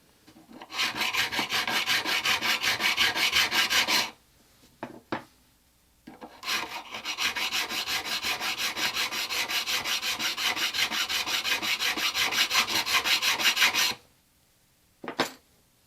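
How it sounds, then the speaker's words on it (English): Diamond crowning files, 150 and 300 grit, rounding the tops of classical guitar frets: two long stretches of steady, rapid rasping strokes, close and loud, separated by a short pause and a few brief scrapes. "Then I use 2 different diamond crowning files, one which is 150 grit and one which is 300 grit,"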